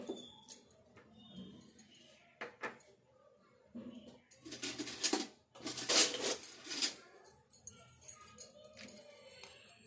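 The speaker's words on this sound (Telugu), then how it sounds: "స్టవ్ మీద ఒక కడాయి పెట్టుకొని" A kadai (wok) set down on a stove while making putnala laddus brings a few metallic clinks and clatters, with a louder burst of rattling cookware in the middle and quieter knocks before and after.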